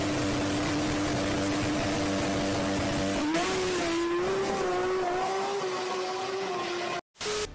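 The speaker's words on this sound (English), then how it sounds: "this time it's a little more beefed up, or should I say charged up to 300 horsepower, and it goes like this" A supercharged 300-horsepower Toyota Supra drives with a loud, steady engine drone. The pitch steps up after a gear change and then holds on, with no talk.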